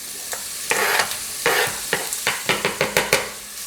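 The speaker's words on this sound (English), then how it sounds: "our garlic is just sizzling nicely" Garlic sizzling in extra virgin olive oil in a pan, a close, steady hiss broken by a series of sharp scraping strokes of a spoon stirring against the pan.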